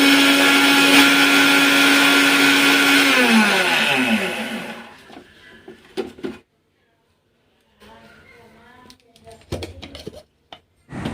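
A mixer grinder jar grinds roasted mustard seeds and fenugreek with a loud, steady whir for about five seconds, then spins down. Scattered clinks and clatters of the jar and lid follow between short silences.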